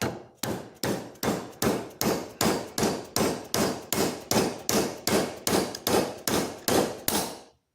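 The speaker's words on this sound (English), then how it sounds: "we'll cut through this silver nickel pin" About twenty rapid, evenly spaced sharp metallic strikes ring out loud and close as a blade is worked through a nickel silver pin on a Schrade Walden 804 Whittler pocket knife, each hit decaying briefly before the next.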